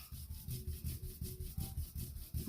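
A blending brush swipes yellow ink across paper, faint rhythmic scratchy rubbing strokes, about six in quick succession, close and quiet with no talk.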